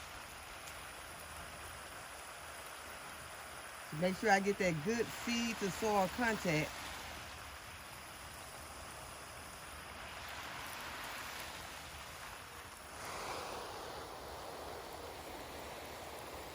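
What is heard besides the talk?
watering freshly planted squash seeds in garden bed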